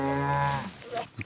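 Cattle in a herd out in a field near Mayan ruins in San Ignacio, Belize, give a loud, drawn-out moo up close, followed by fainter lowing and shuffling noises in the background.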